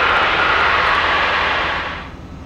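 Engine of a Skyfox Gazelle light aircraft in flight, a loud continuous droning roar heard from inside, holding steady and then easing slightly toward the end.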